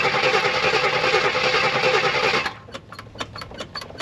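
A 1978 AMC Jeep Cherokee engine cranks with a loud, rapid, buzzing churn for about two and a half seconds, then stops, leaving a few scattered clicks and knocks.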